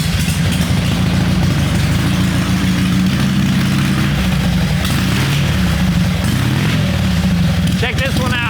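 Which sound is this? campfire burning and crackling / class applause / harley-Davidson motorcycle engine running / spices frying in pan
harley-Davidson motorcycle engine running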